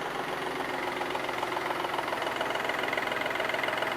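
V6 car engine idling just after starting, a steady close rumble with an even rhythmic pulse, running alone without voices.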